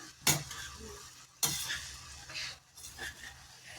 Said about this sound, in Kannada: ಈ ಕಾಳುಗಳನ್ನೆಲ್ಲ ಈ ಥರ ಮಿಕ್ಸ್ ಮಾಡ್ಕೊಳ್ತಾ ಇದ್ದೀನಿ